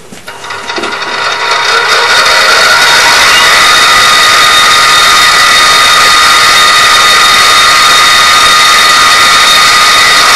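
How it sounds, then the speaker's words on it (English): X2 mini mill running on its gear drive in low range, with a loud, steady whine from the noisy gearing that builds over the first two seconds and then holds constant. "Very noisy gearing. Measuring the RPM with the gear system, low range first."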